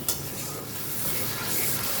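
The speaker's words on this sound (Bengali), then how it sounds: "মশলাগুলো আগে একটু ভালো মতন কষাই নেব" Ground spices fry in a pan for a jackfruit curry, giving a steady broadband sizzle that swells slightly toward the end, with a faint tap of a utensil at the start.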